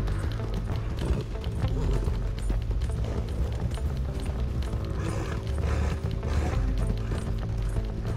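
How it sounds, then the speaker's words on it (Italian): Horse hooves pound in Red Dead Redemption 2, a tired horse running in a rapid, busy clatter mixed with mechanical clicking and game sound, loud and continuous. "Nel frattempo c'è anche il cavallo stanchissimo."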